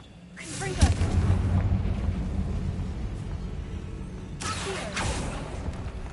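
A Confringo blasting spell goes off in a Harry Potter-style wizarding game inside a tomb: a sharp blast with a deep rumbling tail, then a second burst a few seconds later, under a low hum and some talk.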